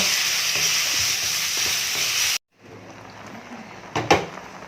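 Mussels are stirred in a hot cooking pan: a bright, steady sizzle runs for a couple of seconds, breaks off, then returns softer with a few sharp clinks of the utensil against the pan.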